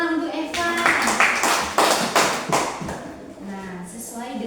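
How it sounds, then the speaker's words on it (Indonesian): Classmates clap for a pupil during a primary maths lesson in an Indonesian classroom, a ragged burst of hand claps close by, mixed with children's and a teacher's voices talking over it. "tepuk tangan untuk Evan"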